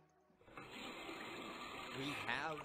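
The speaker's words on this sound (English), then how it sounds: "Running water's good" Water running steadily from a tap in a point-and-click puzzle game, starting abruptly after a brief quiet moment and holding as a continuous rushing stream.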